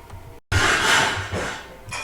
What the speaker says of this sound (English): That's the sound of my dupes crashing the aluminum on the floor.